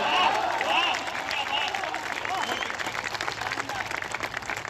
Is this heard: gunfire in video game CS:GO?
no